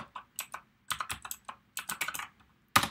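Typing on a computer keyboard in bursts of quick clicks with short pauses between them, ending in one loud keystroke, close and clear with no voices.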